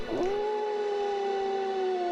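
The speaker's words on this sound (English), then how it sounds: "all of a sudden I heard some loud howling coming down from the banks of the river" Loud, sustained howl rising at the start and holding a steady pitch, heard from the banks of a river near a bike path at the Olentangy River; one long call with no talk.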